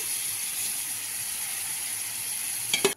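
Water poured into a hot pan of tarka daal gives a steady, moderate sizzling hiss that holds throughout, with a brief clatter near the end and no talking.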